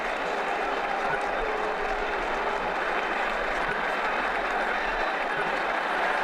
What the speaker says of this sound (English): He's getting a polite round of applause as he makes his way to the pavilion